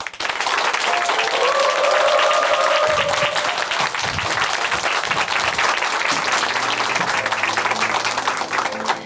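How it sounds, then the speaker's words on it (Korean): An audience in a church gives a testimony a round of applause: steady clapping that fills the room, then fades as a voice starts talking near the end. "김일희 형제님께 다시 한번 큰 박수 부탁드릴게요"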